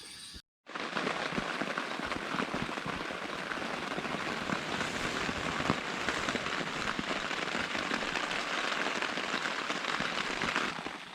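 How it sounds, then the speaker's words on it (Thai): Steady rain falls through the night over a hammock camp in a rainy-season mountain rainforest, a dense, even patter that starts after a brief pause and continues loud and unbroken with no voices. "ตอนนี้ฝนมันตกนะครับผม แต่ว่า ตกไม่เยอะนะครับผม"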